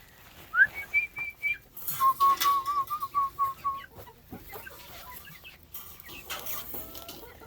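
Chickens cluck and call close by alongside whistling bird notes, a run of short bursts that fades into softer farmyard sounds, with emus and rheas nearby.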